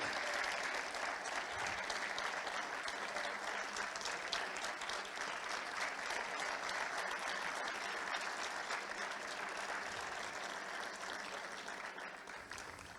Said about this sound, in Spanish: Ahí está ese fuerte aplauso, reconocimiento de clubes.